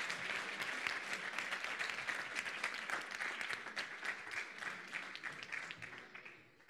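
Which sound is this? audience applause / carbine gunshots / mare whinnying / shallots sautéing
audience applause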